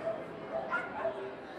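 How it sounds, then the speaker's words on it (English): A dog at an indoor pet show gives several short snorting, yipping sounds over a steady crowd murmur, with people talking nearby. "a snorty dog"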